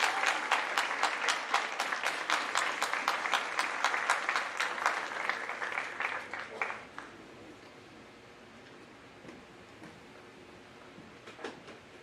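A high school awards assembly audience bursts into strong, sustained applause for about six seconds, with sharp individual claps standing out, then it dies away into quiet room noise with a few scattered late claps.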